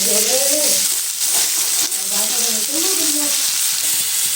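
Onions browning in a pan for a pumpkin palya, giving a steady, loud sizzle with faint tonal hum and clinks beneath it throughout.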